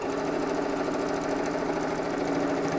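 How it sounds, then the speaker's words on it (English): A sewing machine runs stitching across the top of a patchwork bag, a fast, even mechanical chatter of the needle, close and continuous with no pauses or talk. "And we'll sew straight across the top."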